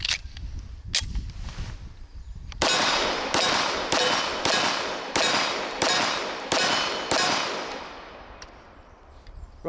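A SIG Sauer Select 1911 pistol fires its last magazine: about eight sharp, loud reports in a steady rhythm, each with a ringing decay, following a few quieter clanks and handling noises.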